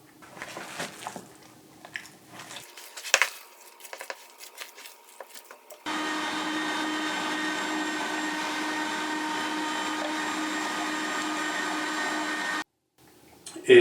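An electric meat grinder minces meat for Iranian kabab koubideh, its motor droning loud and steady for about seven seconds after quieter clicks and handling noises, then cutting off abruptly.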